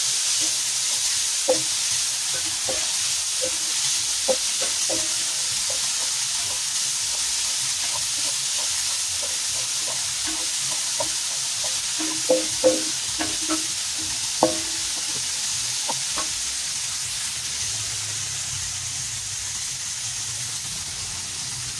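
Onions and lots of tomatoes sauté in a pan for mung bean stew with a constant hissing sizzle, broken by scattered clicks and light scrapes of stirring, close and with no voice.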